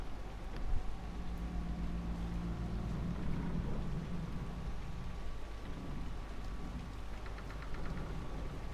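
A storm in the video game Dragon Age: Inquisition brings a steady wash of rain over a constant low rumble of thunder, unbroken and moderately loud throughout.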